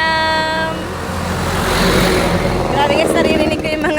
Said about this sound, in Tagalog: naririnig ko yung mga tricycle dyan, no?